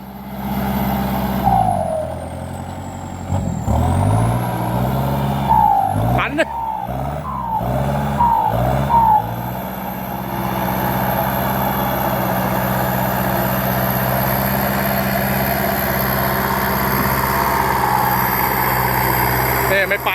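A walking tractor on hoe wheels, fitted with an L47 engine, runs nearby with a loud, steady diesel drone. Several short revs and clunks come early on before it settles into an even idle.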